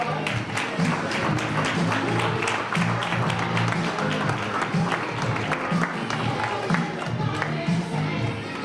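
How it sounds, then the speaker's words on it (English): Steady applause and cheering from an audience at a debutante ball in the Bahamas, dense clapping sustained throughout with crowd noise underneath. "Let's give them a round of applause."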